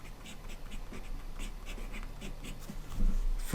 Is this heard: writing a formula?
yes